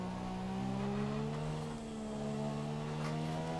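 Formula 1 race car in F1 2017 closing in from behind during qualifying in China, a steady high engine whine with a rising pitch that holds loud and close throughout.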